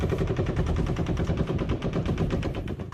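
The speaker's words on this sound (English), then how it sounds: "He fires his 12th and final burst as Corey Langdon leaves the Mandalay." Sustained automatic gunfire from the Las Vegas mass shooting at the Mandalay Bay, a rapid, steady burst of shots lasting about three seconds, loud and continuous with no pause.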